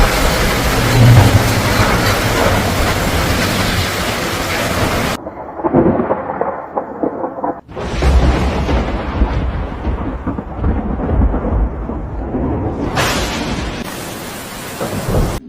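Storm waves from Storm Priscilla pound the shore at Mazatlán, Mexico, a loud, continuous, roaring wash of crashing surf with a short lull partway through before the roar surges back.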